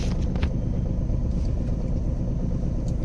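A car engine idling steadily during a driving lesson, a constant low rumble close by with no talk over it.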